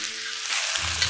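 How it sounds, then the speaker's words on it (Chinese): Pork slices hit a hot wok with oil, shallots, garlic and ginger, bursting into a loud, steady sizzle that swells partway through and keeps crackling close up. "这个香味已经出来之后，我们就可以把这个肉片放进去煸炒一下"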